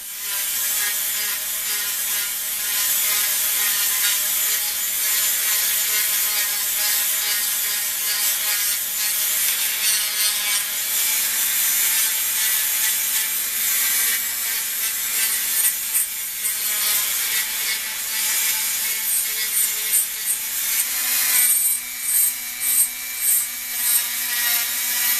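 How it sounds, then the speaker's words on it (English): A wooden intarsia piece being ground over a wastebasket, a loud continuous abrasive whir and rasp that holds steady for the whole stretch, with slight pulsing near the end as the wood is worked. "When you're grinding on this, grind from a solid surface out"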